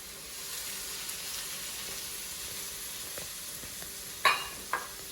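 Celery, carrots and white onions fry in hot oil for fried rice, giving a steady, quiet sizzle with no one talking. Near the end come two short, sharper clatters of stirring.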